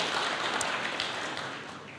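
A church congregation applauds during a sermon, a soft continuous patter of many hands that fades slightly toward the end, heard at a distance without talk.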